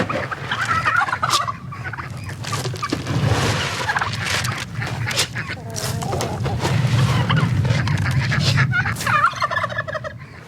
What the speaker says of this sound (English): I'm gonna go ahead and feed the turkeys and ducks a little bit of grain.